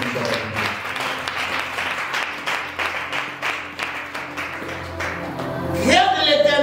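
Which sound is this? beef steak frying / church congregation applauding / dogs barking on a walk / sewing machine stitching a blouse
church congregation applauding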